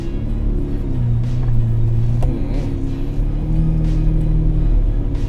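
A Lamborghini Murcielago engine rumbles loud and close, revving up and down in deep, raw swells over several seconds without any talk.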